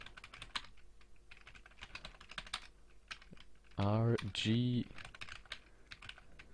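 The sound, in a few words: typing on a computer keyboard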